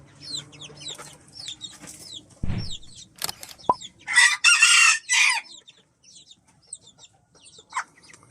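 Chickens cluck and chatter in a backyard coop kept with İspenç roosters and grown chicks. A rooster's crow bursts out loudly midway, alongside a few thumps and scratches, and then soft clucking resumes.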